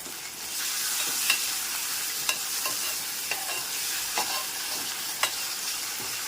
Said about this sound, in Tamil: வெங்காயம், தக்காளி இதெல்லாம் நல்லா வணங்கட்டும்.